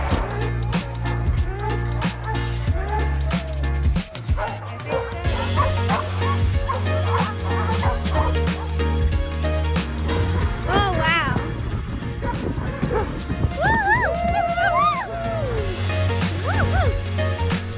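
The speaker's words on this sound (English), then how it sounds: "those are dogs barking." Sled dogs bark and yip at a dog sledding area near a ski-plane airfield, a busy chorus of overlapping barks and whines with someone talking over them in the foreground.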